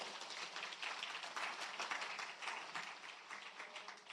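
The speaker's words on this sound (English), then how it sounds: "give yourselves a round of applause" Sustained applause from an audience at a public sector debate competition, dense steady clapping filling the space evenly for the whole stretch, fairly close, with no talk over it.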